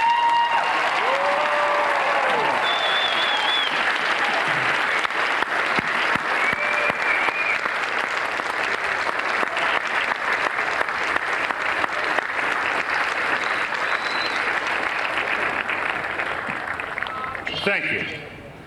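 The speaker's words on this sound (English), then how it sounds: "give a Ball State round of applause to your parents and families" Sustained applause from a crowd of graduates at a Ball State University spring commencement, a loud steady wash of clapping lasting nearly the whole stretch before tapering off at the end.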